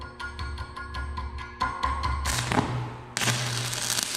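Stick welding a flat fillet weld with a 1/8-inch 7018 rod joining two steel plates: a few dull taps on the plate, then the arc strikes and a steady, close, loud crackling hiss takes over.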